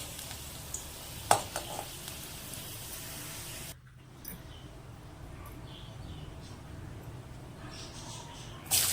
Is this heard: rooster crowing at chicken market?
no